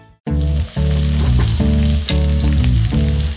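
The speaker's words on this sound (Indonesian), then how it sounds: "Tumis bawang putih, bawang bombay," Garlic and onion sautéing in a pan, with a steady, loud sizzle that runs nearly nonstop after a brief silent start, alongside a rhythmic tonal pattern.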